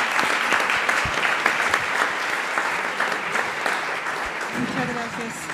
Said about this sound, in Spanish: Le damos otro aplauso